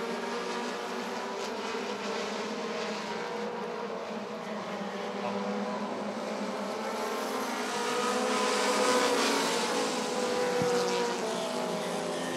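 Continuous roar of short-track race car engines at Rockford Speedway, a steady droning whine that swells slightly toward the end, with no voices.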